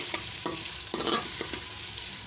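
Chicken pulao base frying in a pan over a high gas flame, a loud continuous sizzle broken by several quick scraping stirs.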